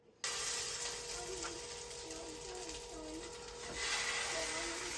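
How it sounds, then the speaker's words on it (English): Arepas sizzling in butter on a hot skillet in an RV kitchen, a soft steady crackle that starts abruptly and continues quietly, with occasional faint scraping and brief voice sounds. "Heat up the skillet, add butter. We're gonna throw these on there and toast them."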